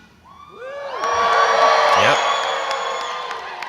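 A graduation ceremony audience cheers loudly: rising whoops and yells swell into a sustained roar of many voices, with a short spoken word near the middle.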